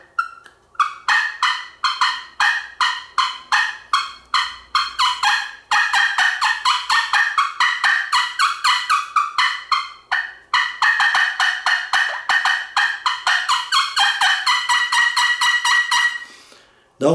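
Rapid series of excited yelps from a slate turkey call played by hand, imitating a young wild turkey searching for its flock during fall hunting; loud, closely spaced bursts in quick runs with brief pauses, no talking.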